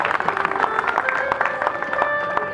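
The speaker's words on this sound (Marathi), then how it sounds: "जोरदार टाळ्या झाल्या पाहिजे त्यासाठी जोरदार टाळ्या" An audience claps at a ceremony marking the 127th birth anniversary of Mata Ramai. Quick, dense clapping rings out over a steady tonal sound in the hall.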